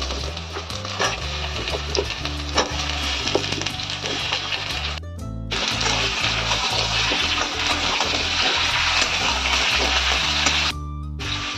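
Taro pieces go into hot oil with frying onion and garlic, and a loud, steady sizzle and hiss carries on for several seconds over a low, pulsing hum. The sizzle cuts out briefly twice.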